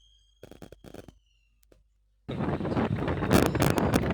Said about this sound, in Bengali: খুব ভালো হাওয়াও হচ্ছে